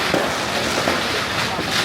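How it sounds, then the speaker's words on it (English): Rows of tiny firecrackers crackle at Chinese New Year in Penang, Malaysia, a continuous dense loud rattle of pops with no breaks. "These are all little tiny firecrackers that they're about to light off."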